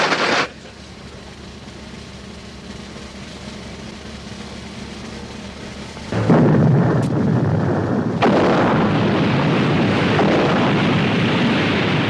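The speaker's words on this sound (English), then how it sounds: "Fire depth charges!" Depth charges fired from a navy boat burst in two sudden heavy blasts a couple of seconds apart, each leaving a loud, sustained rumbling roar.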